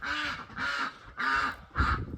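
Ducks give four harsh, evenly spaced honking quacks close by, each call short and loud, with nothing else around them.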